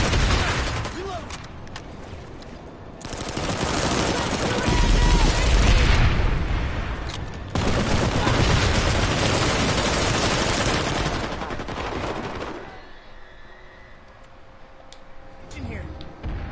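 Sustained bursts of automatic gunfire and booming explosions from the PlanetSide 2 video game, loud and dense for most of the clip, easing toward the end.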